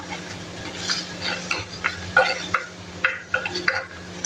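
Dried red chillies stirred in a pan with a metal spoon, a series of scraping, clinking strokes at an uneven rhythm over a faint low sizzle, close up and with no talking.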